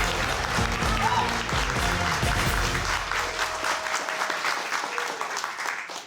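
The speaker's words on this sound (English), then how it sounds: "that applause means we're ready for the picture perfect round" Studio audience applause at a high school quiz show playoff, a full steady round of clapping with a musical sting underneath that fades out, gradually thinning toward the end.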